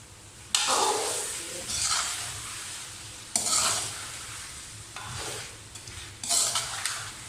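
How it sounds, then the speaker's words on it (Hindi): Okra and chicken fry in spices in a pan, with loud sizzling bursts each time the mixture is stirred and turned, separated by quieter stretches of steady frying, close and without voices. "भिंडियाँ फ्राई करने का फ़ायदा ये होगा दोस्तों कि भिंडी हमारी टूटेगी नहीं"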